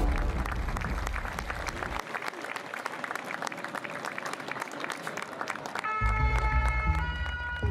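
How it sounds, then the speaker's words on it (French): A crowd outside during the Notre-Dame cathedral fire in Paris claps and cheers for firefighters, with steady dense applause mixed with murmuring voices, then a brief shift to tonal background sound near the end. "les pompiers sont spontanément acclamés par la foule"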